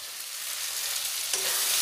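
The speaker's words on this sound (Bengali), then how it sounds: "সবজিগুলো খুব ভালোভাবে ভাজা হয়ে গেছে।" Vegetables for a Bengali spinach dish sizzle steadily in a hot pan, a close and constant frying hiss that grows slightly louder near the end as they are stirred, with no speech.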